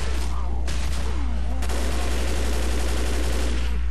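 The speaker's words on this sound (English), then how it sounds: "just fire straight ahead of you" Rapid gunfire from the Left 4 Dead video game rattles in dense bursts through the No Mercy sewers level, loud and continuous over a steady low rumble.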